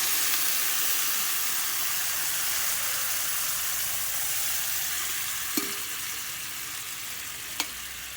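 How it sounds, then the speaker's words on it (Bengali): Water poured into a hot pan of curry with potatoes sets off a loud, steady hissing sizzle that slowly settles, with a couple of faint clinks near the end. "জল দিয়ে দিচ্ছি।"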